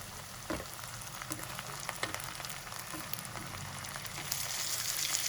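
Half a kilo of hand-chopped chicken mince drops into a hot pan and sizzles steadily, a soft continuous frying hiss with a few stirring knocks, swelling slightly toward the end.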